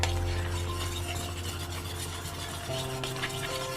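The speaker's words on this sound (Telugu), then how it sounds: "బెల్లం వేసి కలపండి" Jaggery being stirred into milk in a metal pot, a steady scraping swirl with faint clinks of a spoon against the vessel over a continuous low hum, close and moderately loud throughout.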